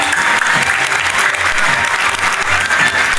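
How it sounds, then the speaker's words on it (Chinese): Guests at a wedding banquet applauding, a dense, loud, sustained burst of clapping from a large crowd indoors. "掌声有请。"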